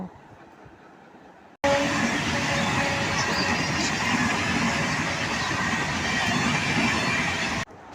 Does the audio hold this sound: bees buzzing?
no